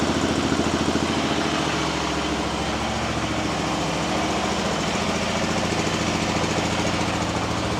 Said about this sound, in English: I'm gonna start the bike up and let it run for about 10 minutes